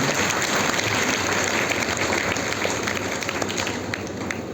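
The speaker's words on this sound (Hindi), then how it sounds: "चलो ताली बजा लो अपने लिए" An audience at a spiritual gathering applauds together, a dense wash of clapping that stays loud and steady before tapering slightly toward the end, with no one speaking over it.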